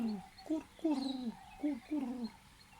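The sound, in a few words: birds singing outdoors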